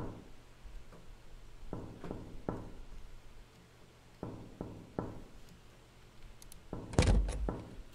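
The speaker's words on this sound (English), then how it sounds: "Listen to the door closing sound and tell me it doesn't sound like it's from Fears to Fathom." A door in an indie horror video game closes with a string of soft, scattered knocks and thunks, ending in a louder, heavier bang near the end.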